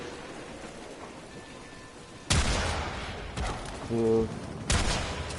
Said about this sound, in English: Who's shooting at me now?